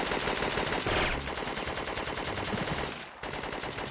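Continuous rapid machine gun fire in the video game Syphon Filter 2 rattles loudly and densely, with a brief gap near the end before the bursts resume.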